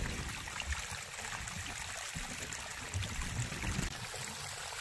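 Water from a farm pump motor runs steadily in a field of coriander, a continuous broadband rush and trickle with faint low rumble, fairly close and even throughout with no voices.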